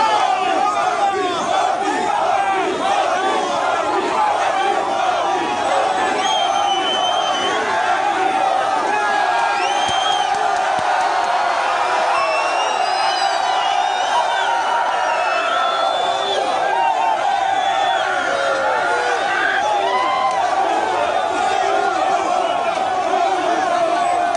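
A large crowd of supporters at a political rally in Tororo shouts and cheers nonstop, a dense, loud roar of many voices with whoops rising above it.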